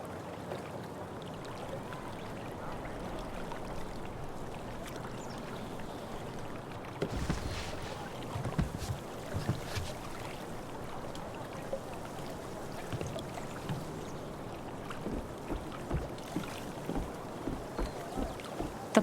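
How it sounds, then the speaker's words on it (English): Kayak paddling on water in the Life is Strange video game, faint lapping and gentle splashes that turn into regular paddle strokes toward the end over soft wind-like ambience. "If not for the paddling, kayaking would be super relaxing."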